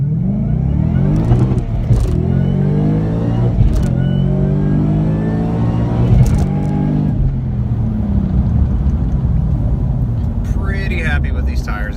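A car launches from a rolling start on Continental ExtremeContact Sport tires in stock performance pack size. The engine climbs loudly through rising revs, eases briefly, and pulls again, close and continuous throughout.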